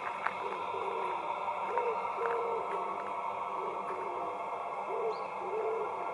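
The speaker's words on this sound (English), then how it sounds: "The pigeons are cooing." Pigeons coo on a still, misty morning beside a river on the Norfolk Broads, soft repeated low hooting calls in a steady rhythm over a faint background hum.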